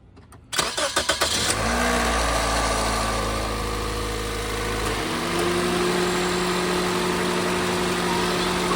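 A 2003-2008 Toyota Corolla's VVTi 16-valve engine cranks briefly, fires up and settles into a steady, smooth idle, heard up close in a garage.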